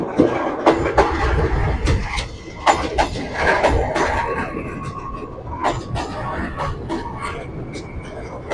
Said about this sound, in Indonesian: Ini saatnya kereta berjalan arah ke Stasiun Yogyakarta.